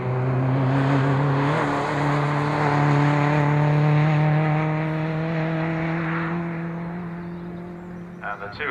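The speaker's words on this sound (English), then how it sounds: "And the 2 MGB GTs come into the complex with the leader switching his lights on to let them know" Two MGB GT race cars drive through the track complex at Croft circuit during a club race, a steady droning engine note that fades gradually toward the end, with a commentator talking over it.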